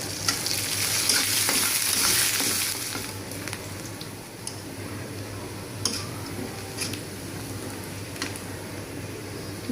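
Chopped garlic and onion fry in hot oil with cinnamon, cardamom, cloves and black pepper, a loud hissing sizzle that swells early and then settles, with intermittent clicks and scrapes of stirring.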